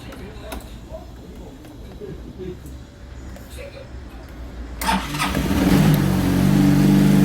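A Nex125 scooter with intermittent starting trouble cranks and fires up about two-thirds of the way through, then settles into a steady, close engine hum after quiet workshop noise and a man's speech.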